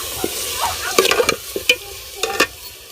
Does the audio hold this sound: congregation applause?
no